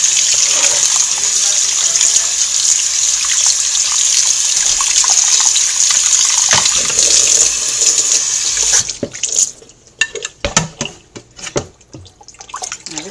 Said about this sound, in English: Alright, you're going to wash it one more time